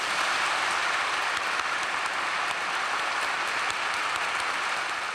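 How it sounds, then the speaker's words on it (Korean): Sustained applause from a large audience at a Korean political gathering, a steady dense wash of clapping that fills the whole stretch evenly and loudly, with no voices standing out. "여러분이 좋으시다면 우리 이회창 선생의 앞날을 위해서 박수 한번 보내겠습니다"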